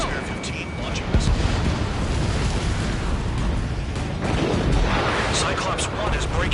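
Missile launches and explosions in the air-combat video game Ace Combat 7, a dense, continuous roar of booms and blasts that stays loud throughout, with radio chatter mixed in beneath.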